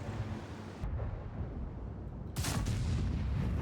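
A tank cannon fires in a tank video game featuring the Jg.Pz E90 tank destroyer, one heavy boom breaking through a continuous low engine rumble, which swells louder after the shot.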